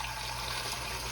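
Tap water pours steadily into a pot being filled for beans, a continuous close rushing wash with no voices.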